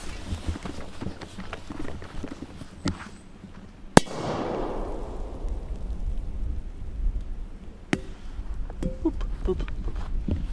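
A sharp Big Bang firecracker bang rings out under a pot, followed by a second crack a few seconds later, over steady outdoor noise and rain-like hiss.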